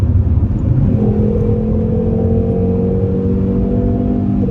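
A bouncy, wallowing used car drives along a road with a steady, loud engine drone and road rumble throughout, a low tone rising slightly as it picks up speed.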